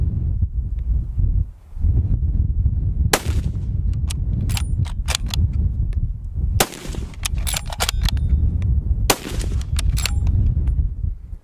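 A heavy rifle with a 26-inch barrel and muzzle brake fires three loud, sharp shots spaced a few seconds apart, each followed by bright metallic ringing over steady background noise.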